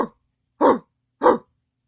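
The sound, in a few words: person imitating a dog bark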